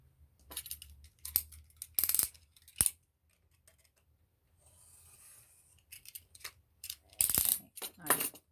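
Scissors cut through paper in several short, crisp bursts of snipping and rustling separated by quiet pauses. A faint soft rubbing runs through the middle stretch, and there is no speech.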